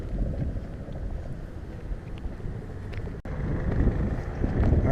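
Cool, chilly breeze blowing outdoors, a steady rushing wind buffeting the microphone, with a brief dropout partway through.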